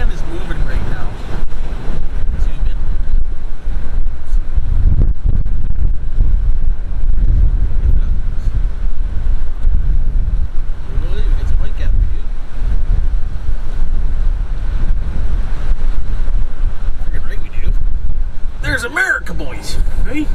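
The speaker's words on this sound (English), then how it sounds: "Look at the waves" Waves wash and surge on windswept water while a van moves nearby, a constant loud roar with heavy wind buffeting the microphone and a voice briefly audible near the end.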